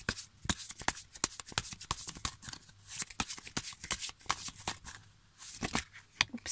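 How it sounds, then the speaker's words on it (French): Tarot cards are shuffled by hand in quick, uneven riffles and slaps, close and crisp, with short pauses between bursts and no talking. "Bon, je vais essayer de faire un petit tirage, même si je suis malade. On va tirer 3 cartes."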